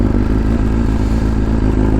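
A BMW S1000RR sport bike fitted with a stage 2 exhaust, cold air intake and velocity stacks idles while warming up, a loud, steady, close throbbing engine note with a rough burbling texture and no talk.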